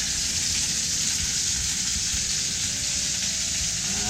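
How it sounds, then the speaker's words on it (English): Brussels sprouts sizzle steadily in a hot pan, a continuous, close frying hiss with no talk over it. "Let these cook down for a little bit. And we'll give them a good flip."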